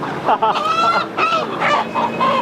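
Live chickens at a street market in Pakistan squawk and cluck continuously, a dense, loud chorus of overlapping bird calls heard up close.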